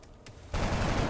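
Squad rifle fire in XCOM: Enemy Unknown: a faint shot at first, then a sudden loud volley that rolls on as a dense crackling burst to the end.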